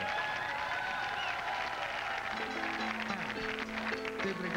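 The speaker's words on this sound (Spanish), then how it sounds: "Aquí está con el aplauso de ustedes." Studio audience on a Saturday variety TV show applauds as a band is introduced, a dense, steady wash of clapping and crowd noise, with a musical tone starting up underneath partway through.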